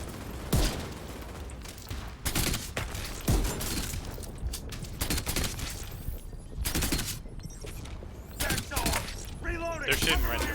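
Enemy gunfire in a shooter video game, bursts of sharp shots and rattling volleys repeating irregularly throughout, mixed with game sound effects and a player talking over them.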